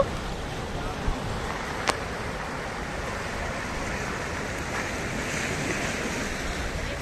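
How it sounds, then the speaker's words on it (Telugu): Steady wash of gentle small waves on a beach at Gokarna, Karnataka, with wind rushing across the microphone, a continuous low roar with no distinct breaks. "చిన్న చిన్న అలలు వస్తున్నాయి"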